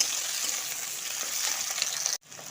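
Thin, long-cut potato strips fry with softened onions in a pan, giving a steady, close sizzle that runs unbroken and then stops abruptly near the end.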